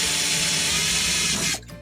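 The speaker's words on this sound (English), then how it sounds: "I'm going to drill." A power drill bores a hole through a recycled metal can, making a loud, steady whining grind for about a second and a half before it cuts off abruptly.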